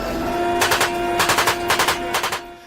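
Several rapid bursts of automatic gunfire crack out in quick groups, sharp and fairly close, over a steady hum during chaotic fighting in a siege by ISIS militants on a barren mountain.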